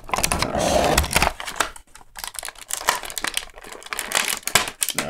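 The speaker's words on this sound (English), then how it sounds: "I'm trying to cut this tape off" Tape being cut and pulled off Gundam MSIA toy packaging, with crinkly plastic rustling, scratchy tearing and short snipping bursts up close, no talking.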